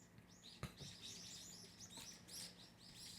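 Several small birds chirp and tweet outdoors, a busy overlapping chatter of short high calls with a brief sharp knock near the start and a faint hum underneath.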